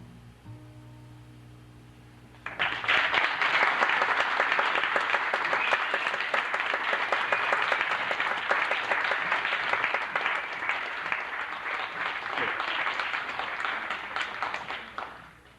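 A talent show audience at Concordia College in Edmonton, 1989, breaks into loud, sustained applause after a short quiet lead-in, dense clapping holding steady for about twelve seconds before tapering off at the end.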